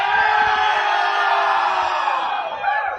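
Large crowd of about 90,000 at Veterans Arena in Philadelphia cheering and whooping at a live podcast show, a dense, loud roar of voices with yells rising and falling throughout.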